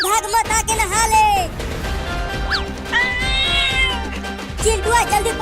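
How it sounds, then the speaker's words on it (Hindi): A cat meows repeatedly while running away, giving several bright, rising and falling cries close by, with loud voices and bumping movement around them. "अरे पकड़ो बिल्ली को, वो भाग रही है।"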